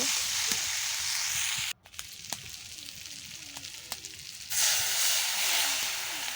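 Freshwater snails frying in the oil they release for a Bengali snail curry and being stirred: a steady hiss broken by a brief pause, scattered spoon scrapes and taps, then the sizzle returning louder, with no talk.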